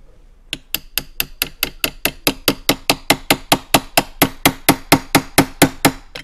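A hammer taps a competition spring kit into a Tanfoglio pistol slide, about two dozen sharp, evenly spaced metallic knocks in a steady brisk rhythm, close and loud, with no voices.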